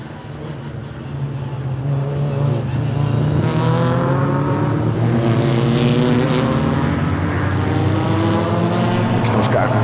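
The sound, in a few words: classic race cars driving through a roundabout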